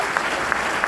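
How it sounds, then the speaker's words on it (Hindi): Short burst of audience clapping at a Hindi motivational seminar, steady and moderately loud with a few sharper claps standing out, no voices over it. "लेकिन महिलाएं भी जोरदार तालियां मैडम के लिए होनी चाहिए।"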